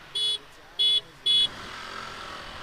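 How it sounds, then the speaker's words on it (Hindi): Horn of an Access 125 scooter honks three times in short, even beeps, close and loud, followed by a steady engine hum as the scooter starts to accelerate. "3 हॉर्न देना, हॉर्न है।"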